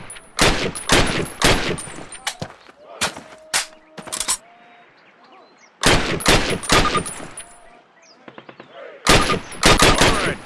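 Rifle and carbine fire from the 2003 Call of Duty D-Day training range comes in three loud clusters of rapid, closely spaced shots, separated by quieter gaps where someone speaks.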